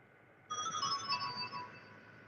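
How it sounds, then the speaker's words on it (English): A mobile phone ringtone plays a bright, xylophone-like melody of quick chiming notes, starting suddenly after a moment of quiet and carrying on steadily over a faint background hiss. "That was my phone."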